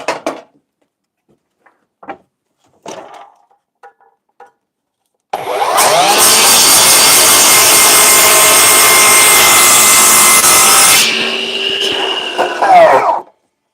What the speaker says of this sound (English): My chop saw is battery powered, which is unusual, but works.